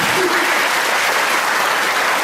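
An audience claps in a dense, steady burst of applause at an evening talk, loud and close, with no voices over it for the whole short stretch.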